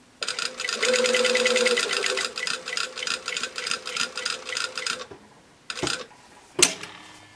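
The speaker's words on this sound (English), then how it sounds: "I'm going to sew down and then we're going to kind of pivot" A sewing machine stitches the seam where a wrap dress skirt meets the bodice, running in a loud, fast steady whir that breaks into short rhythmic pulses, then stops for a couple of sharp clicks and knocks.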